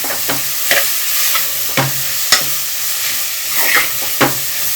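Capsicum palya fries in a pan on a medium flame, a soft steady sizzle broken by a handful of sharp scraping and tapping strokes as the spoon stirs the vegetables, close by with no talking.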